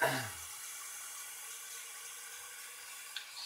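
Tap water runs into a jar being filled for homemade fermented red cabbage, a faint steady trickle following a brief louder splash at the start, with a small bump near the end.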